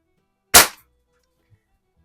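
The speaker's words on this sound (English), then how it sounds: "you think it's going to take me more than one shot to hit them smaller targets?" A single sharp crack from a 1970 Sheridan Blue Streak 20 caliber multi-pump air rifle fired in a garage at toy army men targets, close and loud, followed by silence and a faint tap.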